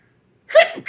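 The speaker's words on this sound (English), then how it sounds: "Y'all know I gotta sneeze 3 times for the set." A single sharp human sneeze, close and loud, bursting out abruptly after a moment of silence.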